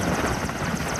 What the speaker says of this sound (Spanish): Este helicóptero de la era soviética tiene unos 30 años.